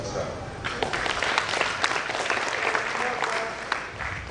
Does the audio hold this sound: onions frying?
no